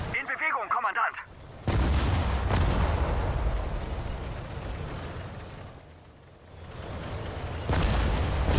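Artillery fire in the WWII strategy game Sudden Strike: repeated deep, rumbling booms and broad blasts roll through the scene, some sharp cracks among them. A voice calls out briefly at the start.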